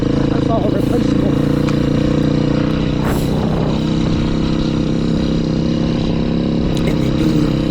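A 2020 Beta 500 RR-S dirt bike idles out in the desert with a steady, loud, close engine drone that holds even throughout, and someone talks over the running motor.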